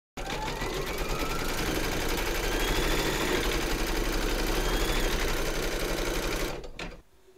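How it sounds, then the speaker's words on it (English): An embroidery sewing machine stitches a round on a hoop, its rapid whirring motor running steadily and close for several seconds before stopping abruptly. "Pop your hoop into your machine and stitch round number 6 to secure it"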